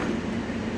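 Automated airport tram at Las Vegas airport running between concourses, a steady close rumble of wheels and car body with a low hum, continuous and alone.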